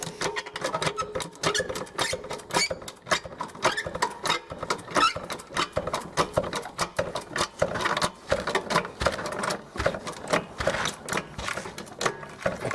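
A car jack lifting a 2006 Nissan Presage during a brake overhaul, heard as a steady run of rapid clicking and ratcheting taps, close and fairly loud, continuing for the whole stretch without speech.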